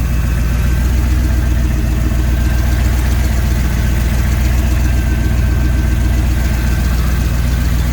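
A turbocharged Ford 460 V8 idles steadily up close after a PCV and valve cover leak repair, with a constant low rumble and fine rhythmic chatter throughout and no one talking.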